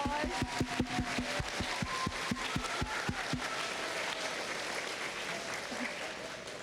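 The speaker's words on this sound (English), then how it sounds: "can you guys give those third grade teachers a round of applause?" School assembly applause for third grade teachers, with loud rhythmic unison clapping and cheering from a large audience that shifts into a broad wash of applause before fading.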